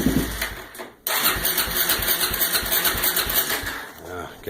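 An LTZ quad with a center pipe exhaust catches after a brief silence and settles into a loud, choppy idle that runs steadily to the end, with a voice speaking over it.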